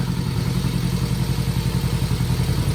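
A motorcycle engine idles steadily and close by after being cleaned up for winter storage, giving a continuous low, even rumble with no voices.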